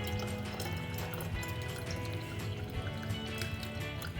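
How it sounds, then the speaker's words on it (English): Lemon juice steadily pouring through a strainer into cold water, a continuous wet splashing close by with faint clinks, no voices. "I'm gonna strain our lemon juice into 5 cups of cold water."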